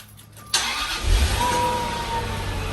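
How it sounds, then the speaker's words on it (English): A Jaguar with a dead battery cranks briefly and catches after a jump start, then settles into a steady, close idle. "Turn the car on."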